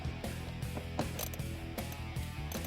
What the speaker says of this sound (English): This one is a 7mm, so we're going to use a 7mm socket